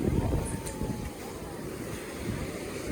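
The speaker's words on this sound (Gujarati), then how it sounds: "એ કેવડા મોજા." Surf rumbles and washes continuously with strong wind buffeting the microphone, the low roar swelling at the start and end.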